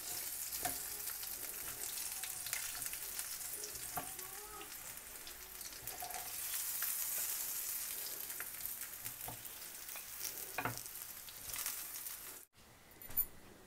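Mutton chops sizzle steadily in a frying pan, a continuous close crackle and spatter with occasional louder pops, fading briefly near the end before resuming.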